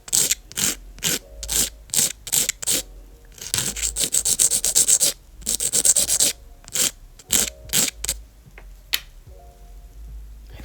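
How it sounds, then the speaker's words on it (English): A nail file scraping along the edges of a gel nail tip in quick, repeated strokes, with short bursts of rasping separated by brief pauses and a few longer continuous passes, close up. "We're just going to turn our tip a little bit over and just gently file away the edges here"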